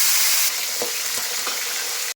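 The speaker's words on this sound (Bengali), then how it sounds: "তেল গরম হয়ে গেছে, আমি এখন মাছ ছেড়ে দিচ্ছি।" Pieces of bhola fish sizzle in hot oil in a kadai, loud and close, with a dense crackling hiss that eases slightly after the first moments and a few soft knocks underneath.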